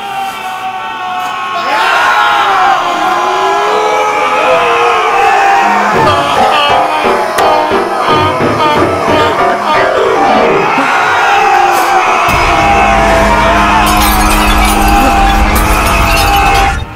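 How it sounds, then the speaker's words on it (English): In a comedy sketch, several men sitting in chairs scream loudly and continuously, their wavering yells mixed with crowd-like whoops, glassy clinks and crashes, all loud and close. "all the guys on the chairs screaming"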